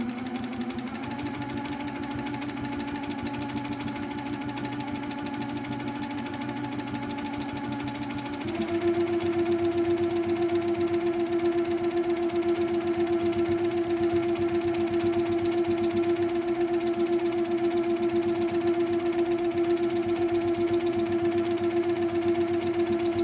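A sewing machine doing freehand quilting of a large feather design without stitch regulation gives a steady mechanical whir that shifts to a higher, louder pitch about a third of the way through, then holds evenly to the end.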